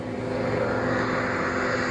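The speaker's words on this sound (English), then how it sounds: "Captain, you hear planes approaching." Fighter planes approach in a theme park stunt show sound effect, a loud, steady broadband engine roar that holds throughout.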